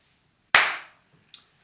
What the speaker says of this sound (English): The clap is very important to synchronize the sound of the external recorder that I'm using